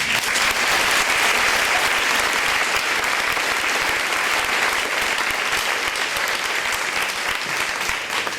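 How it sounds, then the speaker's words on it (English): A school retirement reception audience gives a long, steady round of applause for a teacher retiring after 40 years, dense clapping from a sizeable room holding at full strength for about eight seconds. "I'd like to give her a round of applause for that 40 years"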